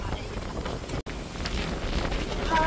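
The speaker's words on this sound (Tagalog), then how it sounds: "Sobrang lakas ng hangin." Strong wind buffeting the microphone in a steady, rushing roar, with faint background noise and a brief dropout partway through.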